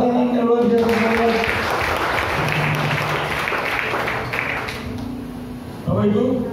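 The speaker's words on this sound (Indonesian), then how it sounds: "beri tepuk tangan yang luar biasa" Applause from a church congregation fills the hall for several seconds, broad and steady at moderate level, with a voice heard at the start and end and faint vocal tones underneath.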